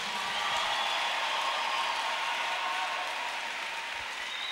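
A church congregation applauds and acclaims the Lord during a sermon, a steady wash of clapping and cheering from many people that holds at an even level throughout with no clear speech.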